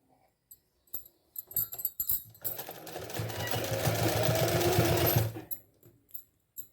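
A sewing machine stitches a pant hem in one steady, close whirring run of about three seconds, framed by soft clicks and fabric handling before and after.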